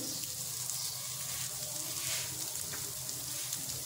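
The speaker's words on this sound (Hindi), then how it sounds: "इसमें हम ऐड करेंगे कटी हुई ग्रीन चिली" Chopped green chilies fry in a pan for an egg keema dish, giving a soft, steady sizzle at low volume with no voices.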